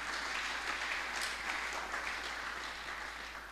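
A church congregation applauding during a sermon, steady dense clapping from many hands at moderate distance, sustained throughout with a low constant hum beneath.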